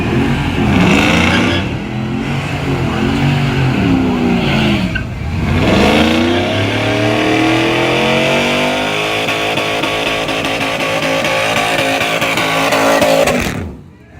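A red Mustang and a Chevy S10 drag race in a grudge race, engines roaring loud and close for about thirteen seconds with revving, shifting pitch sweeps and tire noise before cutting off abruptly.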